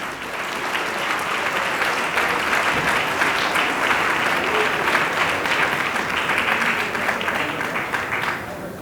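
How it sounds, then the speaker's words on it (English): Audience at a gala applauds a keynote speaker with loud, sustained clapping that fills the room evenly for several seconds before tapering slightly at the end. "please join me in a big round of applause for our keynote speaker, Rabbi YY Jacobson."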